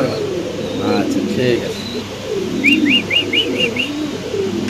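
Lahori pigeons cooing at a pigeon seller's: soft, repeated throaty coos and a quick run of short rising calls, close by, while people talk over them.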